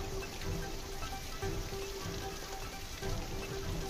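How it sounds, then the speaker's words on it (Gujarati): Early rain falling across countryside near Surat, a soft continuous patter on surfaces with a faint steady tone and low rumble beneath, fairly quiet and with no one speaking. "સુરતના ગ્રામ્ય વિસ્તારોમાં વરસાદ વરસવાની શરૂઆત થઈ ગઈ છે"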